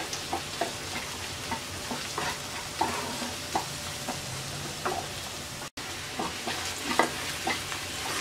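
Onion and garlic frying lightly in a pan while being stirred for a snake gourd and lentil curry, giving a steady soft sizzle with repeated scraping clicks from the spoon, close and even throughout.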